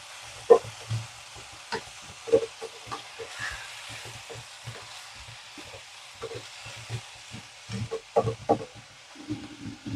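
Spinach and green chillies stirred in a frying pan, a steady low sizzle broken by repeated scraping strokes and soft clacks of the spoon against the pan, close up, with no talking.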